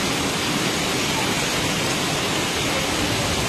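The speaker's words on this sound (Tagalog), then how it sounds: "Nag-ulan na yun" Dense, steady hiss of heavy rain pouring down in Barugo, Leyte, loud and unbroken throughout with no other sounds standing out.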